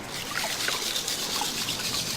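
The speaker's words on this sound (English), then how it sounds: "You shake the pan, you hear the rattle, you put the pan back in the water, you roll the rocks off." Water trickles steadily and close by as a gold pan is worked in a stream, a continuous bright, fizzy flow with no talking.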